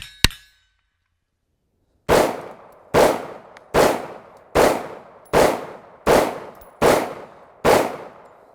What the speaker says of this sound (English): I'm gonna get loaded back up and we'll keep shooting.